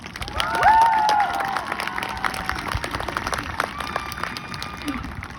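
An audience at a Beech Grove class of 2021 graduation ceremony breaks into loud applause and cheering to welcome a student speaker, sustained for several seconds with a whistle rising early on.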